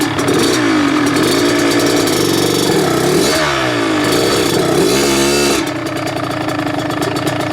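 A two-stroke motocross bike engine runs close and loud, revving up and down in rising and falling sweeps, then settling to a buzzing idle.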